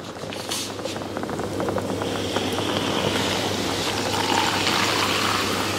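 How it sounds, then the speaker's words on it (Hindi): A butler soda making machine fizzes with strong carbonated soda made at 125 PSI, a steady close bubbling hiss that holds evenly for several seconds with no voices. "आवाज सुन सकते हैं आप और देख सकते हैं कितना बबल से इसमें, नोटिस कीजिए, फुल स्ट्रांग सोडा है"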